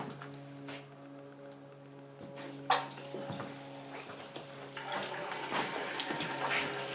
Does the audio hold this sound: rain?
no